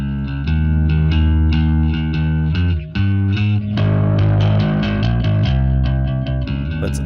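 Bass guitar played through a distortion amp plugin, loud and sustained with a buzzing, overdriven tone and a run of plucked notes, one brief dropout near the middle, no talking.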